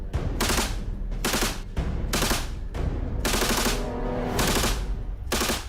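Rapid bursts of military gunfire during commando training, loud repeated volleys and automatic fire in clustered salvos with brief gaps between them.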